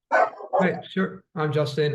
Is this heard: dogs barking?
yes